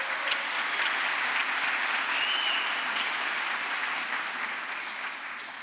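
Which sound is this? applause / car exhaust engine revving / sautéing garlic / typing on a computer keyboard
applause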